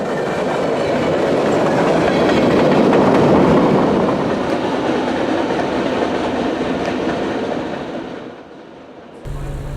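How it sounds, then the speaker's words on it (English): A CSX freight train led by a new EMD SD70ACe-T4 locomotive rolls past close by, its loud rumble and clickety-clack of wagon wheels holding steady before fading away near the end. "a new SD70 Ace T4 power this train"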